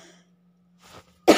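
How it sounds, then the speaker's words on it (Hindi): A woman cooking, tempering in desi ghee, lets out one sharp, close cough at the very end of a mostly quiet moment, preceded by a faint short rustle. "वो बीच में खांसी आ रही है"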